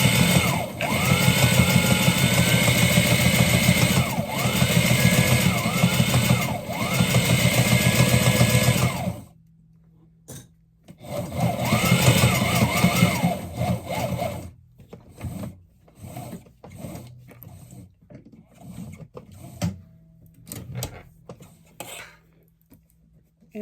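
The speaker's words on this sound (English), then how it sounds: "Now I'm going to top stitch it." A sewing machine top stitches a leather drawstring bag, a loud, steady buzzing run of needle strokes that pauses, resumes, then breaks into shorter bursts and quiet handling noises.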